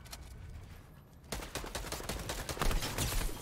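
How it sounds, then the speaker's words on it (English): Rapid bursts of assault rifle fire in a video game shootout, starting after a short quieter stretch and then rattling on close and loud in repeated clusters. "Them bursts be hitting, yes sir."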